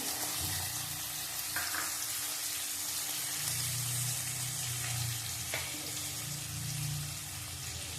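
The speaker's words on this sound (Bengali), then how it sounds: "একটু জল দেবো অল্প করে, অল্প জল দিলাম।" A little water is poured into a curry cooking with cumin powder, and a steady hiss and sizzle runs throughout, rising and falling in short swells with a couple of faint clinks.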